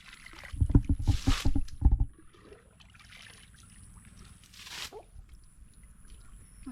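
Water is bailed out of a pond by hand to catch fish: a loud burst of splashing scoops up close, then quieter sloshing and trickling, with another brief splash later.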